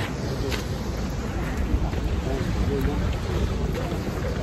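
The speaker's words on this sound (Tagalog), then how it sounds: "Mahangin sa labas. Mahangin siya." Strong wind roars steadily across the microphone outdoors by the Embassy Hotel in Valletta, Malta, a constant loud rush with no pauses.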